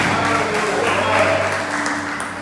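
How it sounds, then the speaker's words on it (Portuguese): A church congregation applauds during a sermon, a dense, steady wash of clapping from many hands filling the room at moderate loudness, with faint voices mixed underneath. "Você pode aplaudir Jesus por isso, amém?"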